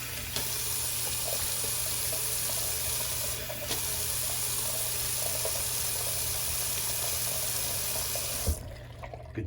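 Water runs steadily from a bathroom tap, rinsing alum off the face after a shave, with close, even splashing and a faint hum that stops abruptly near the end.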